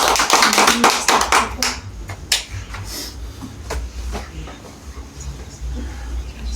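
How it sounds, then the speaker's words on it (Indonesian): Students clapping their hands in a math class, a burst of sharp overlapping claps at the start that thins into scattered taps and fades. "Tepuk tangan dulu."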